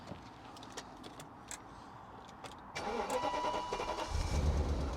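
A rare abandoned classic BMW Alpina B10 V8 under repair: faint clicks and hiss, then a starter cranking and the engine catching into a deeper, louder rumble near the end.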